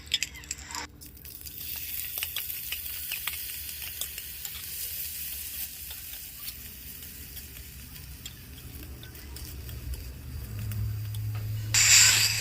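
Rice being fried in ghee with a bay leaf, a low continuous sizzle with faint stirring clicks throughout, ending in a louder burst of sizzling and scraping near the close.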